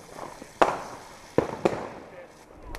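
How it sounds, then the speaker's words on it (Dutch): Three sharp New Year's fireworks bangs go off at a distance in Groningen, with faint crackling between them and voices in the background. "Vooral veel siervuurwerk, hè?"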